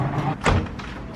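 A rental apartment door is swung open and bumps into something, a single dull thud midway through against faint room noise.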